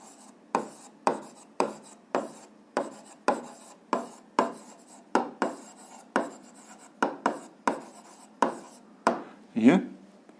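Pen writing by hand during a physics lesson, a steady series of quick scratchy strokes close to the microphone, evenly spaced and otherwise quiet, with no talk.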